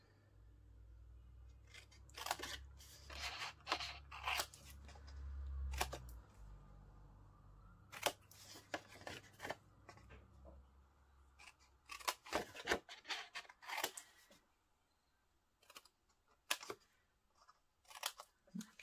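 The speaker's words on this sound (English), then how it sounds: "You just cut straight along the score line, roughly half, and then diagonals into the corners." Scissors snip through scored card along the fold line and then diagonally into the corners, a run of short, crisp cuts in quick bursts separated by pauses, close up and quiet, with no talk.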